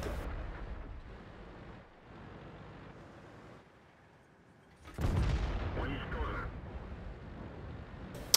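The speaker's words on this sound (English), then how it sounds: "our artillery is whittling down this IS-7 a little bit" Artillery shells striking an IS-7 heavy tank in a tank video game, a sudden loud rumbling impact midway after a quieter stretch of engine hum and muffled battle noise.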